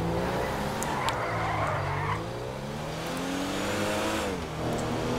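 Car driving in GTA V, a continuous engine hum rising and falling with gear changes and brief tire squeals, fairly loud and steady with no voices.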